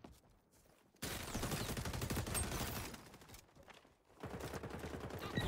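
Rapid automatic gunfire in the XDefiant shooter game, loud sustained bursts of shots after a quiet opening, a brief lull, then another close burst.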